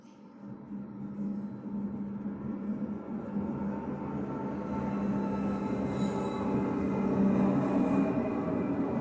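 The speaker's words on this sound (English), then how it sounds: "there's a train going by." A passing train rumbles steadily and fairly loud, a low continuous roar with a faint squeal of wheels, swelling slightly toward the end of the stretch.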